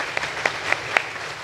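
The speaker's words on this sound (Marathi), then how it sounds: "एकदा ताईंकरता जोरदार टाळ्या वाजवूया आपण." Scattered claps from an audience at a Shiv Mahapuran katha gathering in Rahata, a few distinct hand claps over a thin, brief wash of applause.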